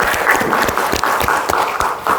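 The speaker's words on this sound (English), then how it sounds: "Please give her a round of applause." Audience applause at a Ghana Digital and Innovation Week 2025 panel discussion, a steady spread of clapping from a nearby crowd that keeps up evenly for about two seconds with no talk over it.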